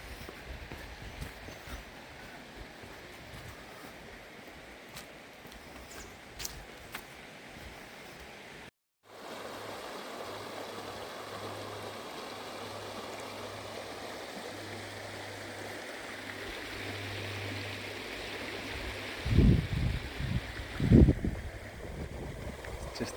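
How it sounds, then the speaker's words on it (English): River rapids in the Wye Valley give off a steady, broadband rush of flowing water with no speech. A brief dropout near nine seconds is followed by a low hum, and louder splashy bursts come near the end. "Just the latter end of the rapids here."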